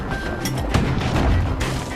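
A drawstring-powered emergency defense weapon fires in the video game Bastion, giving a loud, booming shot with a heavy low thud, layered over ongoing rumbling game noise.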